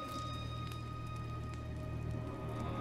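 Steady rain falls on surfaces in God of War, a continuous close patter with a low ambient hum beneath and no voices.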